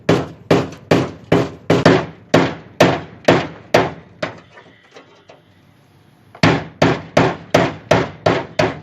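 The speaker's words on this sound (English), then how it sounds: "you can get a good hammer swing on the chisel" A hammer strikes a chisel against the steel inner rocker panel of a 1955 Cadillac Coupe DeVille, a close run of loud, evenly spaced metallic blows that pauses briefly, then resumes in the same rhythm.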